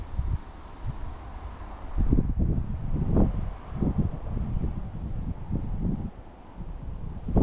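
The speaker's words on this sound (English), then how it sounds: "this wind's proven pretty difficult to control my line" Steady wind buffets the microphone on a canal bank, gusting in uneven surges with leaf rustle and low rumble throughout, no speech.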